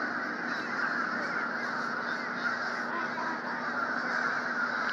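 A crow caws over a steady, dense background hiss that stays even throughout, with no clear breaks in the noise.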